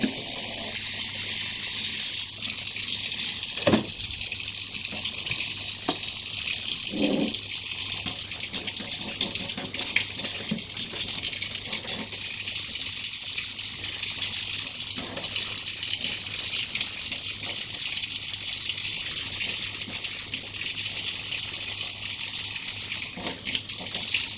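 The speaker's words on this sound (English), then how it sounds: "Maybe a better idea to use hot water. No, this is going to take forever. So, time for hot water." Hot water runs from a tap into a sink in a steady, continuous gush that stays close and fairly loud, with no voices over it.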